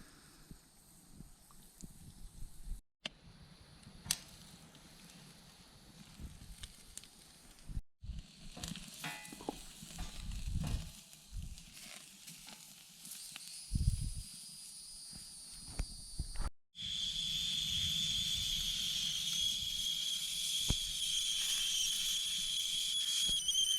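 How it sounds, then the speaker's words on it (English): Food sizzles on a camp stove with a broad crackling hiss, broken by short gaps and occasional knocks and scrapes, growing louder and steadier toward the end. "I can already hear them sizzling"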